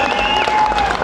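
A crowd gives dense, loud applause for a custom Torana build on display at a motor show indoors, continuous clapping filling the short moment with a faint tone running beneath.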